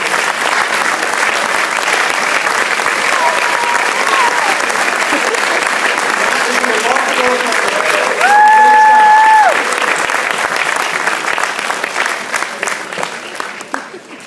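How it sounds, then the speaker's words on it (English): An awards ceremony audience gives sustained applause for scholar athletes, dense steady clapping from a large crowd that lasts many seconds and tapers off toward the end, with a faint voice briefly heard over it. "You deserve a round of applause."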